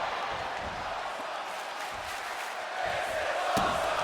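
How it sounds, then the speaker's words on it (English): A virtual arena crowd roars steadily through a WWE 2K25 wrestling main event, a dense, constant wash of cheering with a brief swell near the end, heard without talk. "And the crowd loving this main event tonight."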